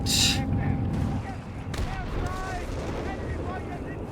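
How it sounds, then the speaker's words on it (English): Howitzer fire in the Company of Heroes 3 strategy game, a loud blast at the start and a second boom shortly after, both under steady battle ambience while a commentator talks over them. "Looking to silence the Howard line gun there with his howitzer."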